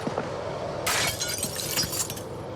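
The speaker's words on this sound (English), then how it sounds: "Remove broken glass." Glass shattering as broken shards are knocked out of a window frame in Project Zomboid, a sudden loud crash followed by a scattering tinkle of falling pieces, heard alone.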